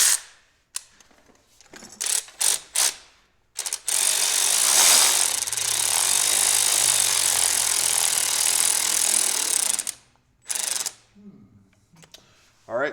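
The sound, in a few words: power tool running a bolt down snug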